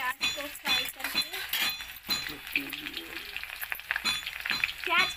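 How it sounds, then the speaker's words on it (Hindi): Onions frying in a pan with irregular crackles, clinks and scraping from stirring, the sizzle broken up by brief bursts of activity. "पहले हम प्याज डाल देंगे, प्याज को फ्राई करके"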